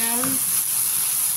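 Milkfish belly hits a pan of cooked-down tomatoes with a steady, close sizzle, a brief clink at the start, then continuous frying hiss.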